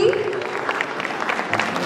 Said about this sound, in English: Please keep on clapping for her.